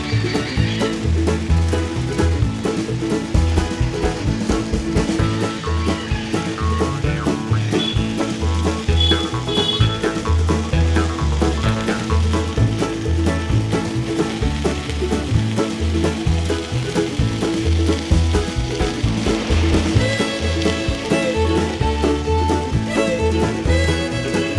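Bhetki fish seasoned with panch foron sizzling on a grill, a steady dense crackle of frying fat running continuously and fairly loud, with a faint tonal background bed underneath.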